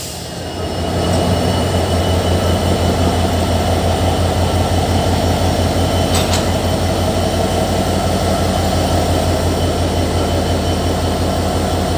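A brand-new locomotive rumbles loudly and steadily at Kamalapur railway station as it is turned, a continuous heavy engine drone with metallic wheel squeal and a brief sharp screech partway through, no voices.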